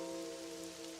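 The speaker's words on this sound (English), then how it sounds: "Ever since we did the rain thing, it's just always raining here now." Steady rainfall in the video game Pokémon Pokopia, a soft continuous patter of drops on surfaces with a faint tonal hum beneath, no voices.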